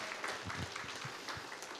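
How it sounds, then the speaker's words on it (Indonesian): An audience claps together for a few seconds at a motivational seminar in Bandung, the applause steady and moderately loud throughout. "Tepuk tangan lu buat Paras Bapak Ibu."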